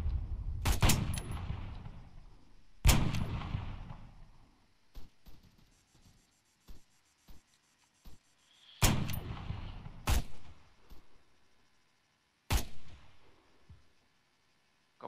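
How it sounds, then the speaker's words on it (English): Rifle fire from a tracer-loaded weapon in the video game Arma 3: several sharp, loud single shots spaced irregularly, each with a short decaying tail, alongside fainter distant cracks between them. "I'll fire a bullet and you guys see where it is"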